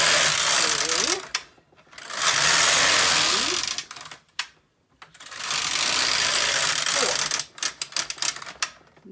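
A Brother KX 350 or LK 150 knitting machine carriage knits rows, with two long rattling passes of mechanical clatter, then a burst of quick clicks with short gaps between them.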